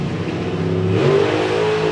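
A drag racing car launches hard off the line at a Dragstalgia meet, a loud sustained engine roar that rises in pitch as it pulls away, close and continuous with no voices.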